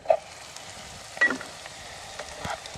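Steak and garlic sizzling in a pan at a backpacking wilderness cookout, a soft continuous frying hiss with a few brief clinks and scrapes as the meat is moved around.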